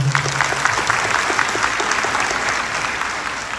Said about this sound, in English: Let's give Mike a round of applause.